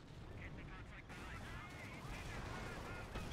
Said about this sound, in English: Shooting the mortar now.